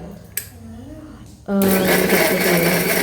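A kitchen mixer grinder starts up loudly partway through, grinding chutney with a steady, strong whirring roar that continues to the end after a quieter stretch of faint background sounds.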